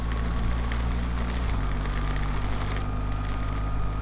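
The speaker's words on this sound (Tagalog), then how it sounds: "Lakas ang ulan no?" Steady, dense hiss of heavy rain pouring down during a motorcycle ride in New Zealand, with a low engine drone running underneath throughout.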